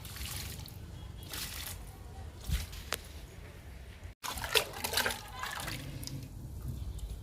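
Homemade leaf-based liquid fertilizer is poured onto potted plants indoors, giving soft trickling and splashing bursts of liquid, broken by a brief pause, under faint background noise.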